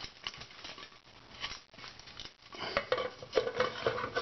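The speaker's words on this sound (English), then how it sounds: "So this is a Russian paratrooper canteen cup and cook set." A Russian paratrooper canteen cup and nesting cook set handled up close, with irregular metallic clinks, scrapes and rattles of the pot and cup knocking together.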